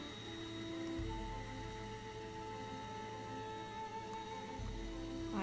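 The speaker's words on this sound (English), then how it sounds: "Oh, and now it's raining." Rain falls in the game Project Zomboid as a steady, even hiss, with faint sustained tones of in-game ambience running underneath and no voices.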